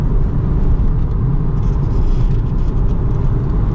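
A BMW E36 323i with a tuned ECU drives a damp mountain road, its engine a steady, dense rumble heard from inside the car, continuous and fairly loud with no talking.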